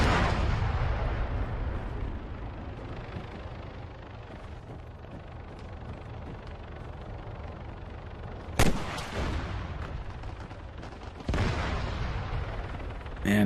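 Two sharp rifle shots ring out in the Arma 3 King of the Hill mode, fired from a tower rooftop, each a loud crack with a rolling echo over a steady outdoor rumble, the second about three seconds after the first.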